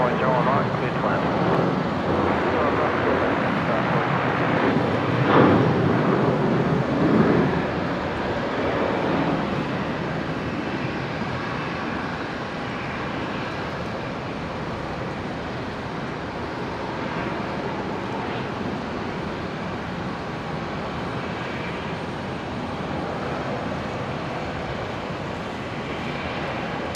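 A Qantas Boeing 737 airliner rumbles at Brisbane Airport, a steady broad roar of engines from a distance that swells slightly early on, then holds as a continuous wash of noise under occasional talk.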